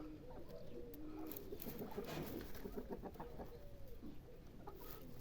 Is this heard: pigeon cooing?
yes